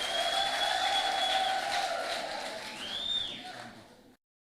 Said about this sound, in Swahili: Haya, tupigie mheshimiwa wetu Dan makofi